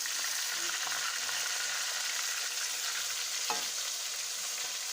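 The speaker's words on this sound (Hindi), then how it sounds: "तो अब हम इसकी दूसरी साइड को फ्राई करेंगे" Fish sizzles in hot oil after being turned over to fry the other side, a steady, fairly faint hiss and crackle with occasional small stirring sounds and no voices.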